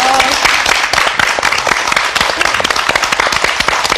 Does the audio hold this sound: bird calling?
no